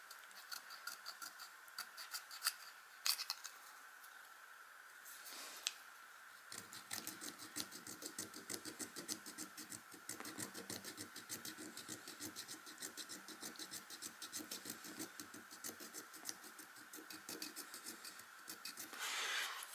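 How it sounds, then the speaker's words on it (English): A small modeller's file rasps against a part of a Suzuki Jimny ignition key, a quiet rapid scratching that starts sparse and then runs as steady close strokes. "to make sure now that this is all filed back. Little modeller's file."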